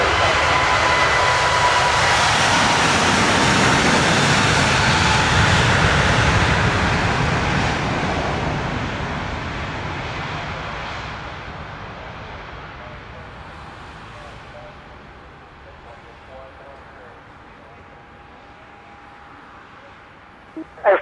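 An Air France heavy jet rolls for takeoff on runway 25, a loud broad engine roar that swells, then slowly fades into the distance over about twenty seconds.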